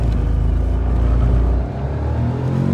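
Tata Nexon 2023 and Nissan Magnite Turbo launching from a drag race start, a loud close engine drone and revving rumble that dips briefly as a gear shifts, then keeps pulling.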